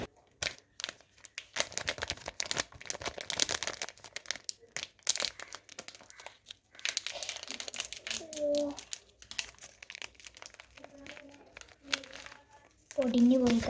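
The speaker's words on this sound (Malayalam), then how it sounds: "അപ്പോൾ നമുക്കിനി ഇത് അൺബോക്സ് ചെയ്യാം." Crinkling plastic wrapper of a chocolate-filled cake being opened, with close rustles and crackles scattered through the clip and a person talking over parts of it.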